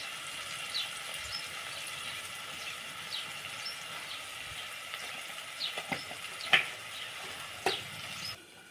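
Tomatoes cook down in oil in a pan, giving a soft continuous sizzle with occasional louder pops and spatters near the end, heard close and fairly quiet.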